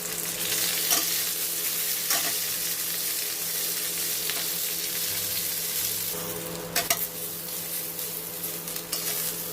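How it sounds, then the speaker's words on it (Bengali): Ripe jujubes stirred in a pan of hot oil with fried whole spices for a pickle, giving a steady close sizzle and hiss with occasional scraping stir strokes. "কুলগুলো দিয়ে ভালো করে নাড়াচাড়া করব।"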